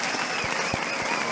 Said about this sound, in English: Clap it up for